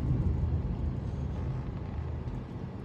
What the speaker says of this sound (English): Wait for all these cars coming from 201.